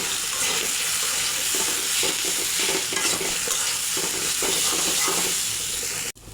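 Spices and potato pieces fry loudly in a pan with a constant dense sizzle, while a spoon stirs and scrapes through them throughout; a short dip in sound comes at the end.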